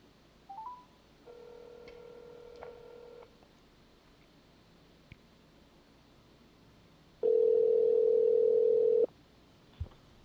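A telephone line playing short dial and signal tones, including a brief tone, a steady tone lasting about two seconds and a louder, longer tone later, with faint clicks between them and no talk.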